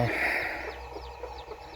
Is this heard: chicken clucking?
yes